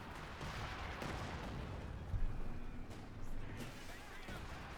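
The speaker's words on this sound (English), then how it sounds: "Trench being hammered there by British artillery." British artillery barrage pounding a trench in the strategy game Company of Heroes 2, a dense rumbling roar of shellfire with a few heavier thuds rising out of the continuous noise.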